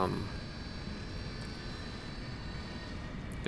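A simulated aircraft engine in the flight game X-Plane 11, at an airport runway in Key West, holds a loud, steady droning roar that stays fairly even throughout.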